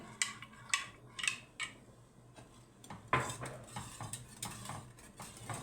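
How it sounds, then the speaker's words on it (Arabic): A spoon stirs rice pudding in a cooking pot, scraping and clinking against the metal in repeated close, irregular strokes with short pauses between. "نقلب الرز ونخلي بالنا عشان ما يشطش من تحت"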